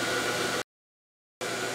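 The vacuum blanket pump of a screen printing exposure unit runs as a steady, loud whooshing hiss, cuts out abruptly into silence for under a second, then starts up again.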